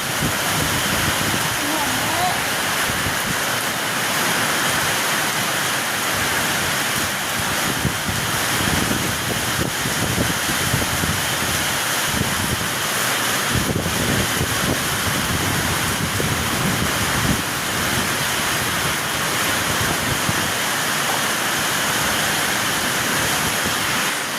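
Heavy rain driven by stormy wind makes a loud, steady, unbroken roar, like dense downpour and gusts hitting a microphone, for the whole stretch.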